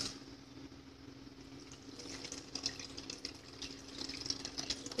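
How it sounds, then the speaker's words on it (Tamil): Water is poured from a tap or vessel into a fish curry, a faint steady liquid trickle and splash in a home kitchen, heard alone without talk. "இப்போ தேவையான அளவு தண்ணி ஊற்றிக்கோங்க."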